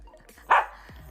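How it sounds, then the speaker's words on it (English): A dog gives a single sharp, close bark in the middle of an otherwise quiet indoor room, with faint low murmuring around it. "I'll let him out if he keeps barking."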